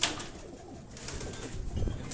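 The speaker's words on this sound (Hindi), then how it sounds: "ये भी उनके आगे प्रवासी कबूतर हैं" Soft cooing of migratory pigeons murmurs nearby on a Karachi rooftop over a quiet outdoor background, with a few faint rustles and wing movements.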